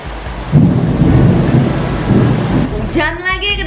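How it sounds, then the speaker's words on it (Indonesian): Heavy rain pours down in a steady, loud wash while low thunder rumbles through it, ending with a brief warbling burst of noise. "Hujan lagi, kedengeran gak suara hujannya?"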